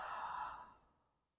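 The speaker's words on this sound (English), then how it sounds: "Breathing out." A single slow, breathy yoga exhale through the mouth, soft and close, starting full and fading gradually to silence over about a second.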